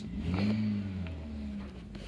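A John Deere 2140 tractor engine revs up and holds a low, droning note, then eases off, heard at a moderate distance with no talking.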